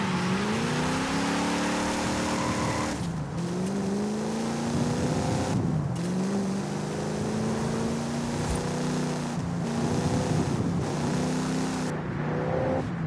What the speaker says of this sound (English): like the Charger, the old Charger, when you first get in it, it has that rumble sound